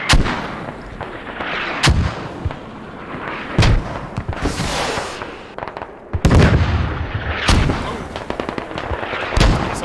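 Mortar rounds firing in the military shooter game Squad, a series of loud, sharp booming launches with echoing tails, several shots spaced irregularly across the stretch, close and alone without talk.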